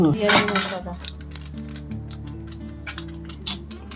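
A spoon scraping and clinking against a metal pot while paneer biryani ingredients are stirred together, irregular taps and scrapes close by over a low steady hum, with a brief voice at the start.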